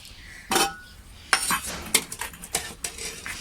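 A cooking pot is handled in a kitchen: a few sharp metallic clanks and clinks, one early and a quick cluster later, over faint room noise.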